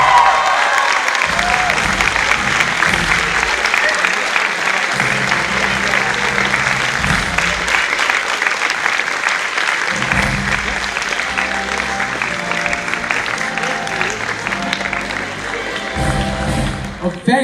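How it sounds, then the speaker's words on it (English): A large school audience breaks into sustained, loud applause with some cheering as Shankar Mahadevan is welcomed on stage, a steady dense roar of clapping lasting throughout. "can we please have a huge round of applause?"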